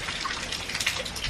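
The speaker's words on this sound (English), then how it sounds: "It's like literally storming. It's like sideways rain out there." Heavy sideways rain storming outside, a dense steady hiss of falling water and splashing drops recorded close by, with no voices.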